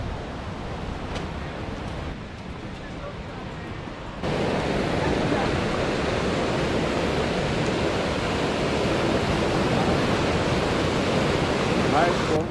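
The Hermon river flows with a steady broadband rush of water, quieter for the first few seconds and then louder and fuller, continuous throughout with no clear voices.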